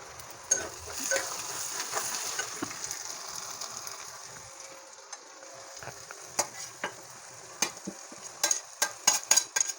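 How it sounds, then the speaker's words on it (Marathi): Freshly grated coconut roasts with onions in a pan, a faint dry sizzle with intermittent scraping and clicking stirs that grow busier and sharper toward the end. "ह्या ठिकाणी मी ओलं खोबरं आधी घालून घेणार आहे"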